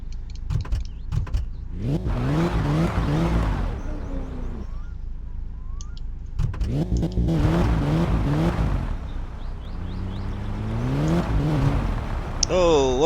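A car engine in the video game My Summer Car revs in repeated rising bursts between brief pauses, loud and close, with a rally setting.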